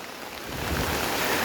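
Rain falls steadily outdoors, a soft, even patter that swells slightly over a second and a half.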